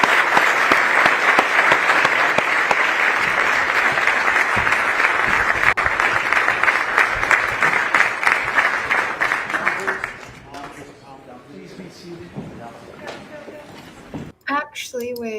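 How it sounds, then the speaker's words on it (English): An audience claps steadily at an executive order signing, a full, even round of applause lasting about ten seconds before it thins out and people begin talking. "Clap, everybody."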